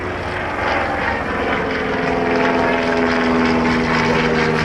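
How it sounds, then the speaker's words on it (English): An Auster light aircraft of the Army Air Corps Historic Flight flies overhead at an air show, its propeller engine droning steadily and fairly loud with a slight rise in intensity. "This is the Oster from the Army Air Corps Historic Flight."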